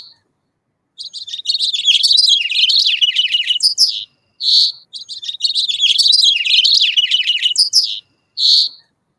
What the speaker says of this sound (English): That is house finch.